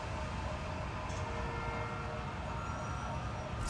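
Steady rail rumble and grinding of trains on tracks in the Spider-Man: Miles Morales video game, a constant wash of mechanical noise with a faint siren-like tone in the background and no speech.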